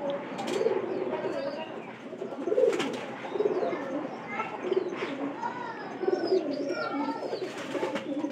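Pigeons kept in a loft on a hot day coo repeatedly in soft, rolling bursts, with several birds overlapping at moderate distance and some faint chirps mixed in.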